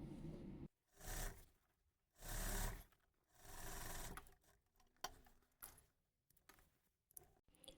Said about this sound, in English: I will do the top stitch on these details to make sure we reinforce the allowance